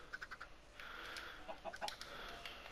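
Chickens cluck on a Minecraft chicken farm in the video game, quiet repeated short clucks and squawks in an irregular rhythm with no talking.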